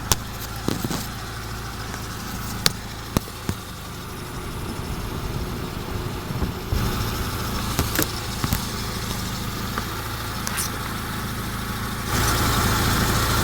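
A Mitsubishi 4G13 car engine idles at 800 RPM during ignition timing setup, a steady low mechanical hum with occasional sharp clicks and knocks nearby, growing slightly louder near the end.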